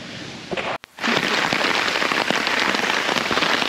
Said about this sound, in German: es regnet schon, es blitzt, es donnert